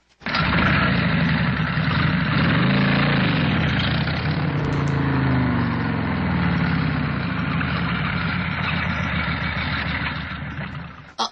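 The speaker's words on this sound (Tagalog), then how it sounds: "Sakay na ko sa akong motorsiklo." A motorcycle engine runs steadily close by, a loud, even drone that holds for about ten seconds and then cuts off abruptly at the end.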